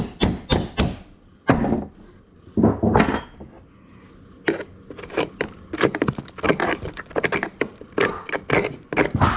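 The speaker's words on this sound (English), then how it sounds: "Staple, smashing them down." Staples hammered down into plywood subfloor during a rotten subfloor repair in a mobile home, rapid loud metallic whacks in irregular bursts, close and dominant with no talk.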